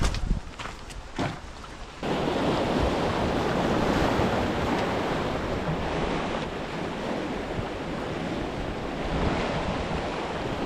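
Sea waves surging outside the small back gate of Khanderi sea fort near Alibag, a loud, continuous rushing wash of surf with wind buffeting the microphone, after a few brief knocks at the start.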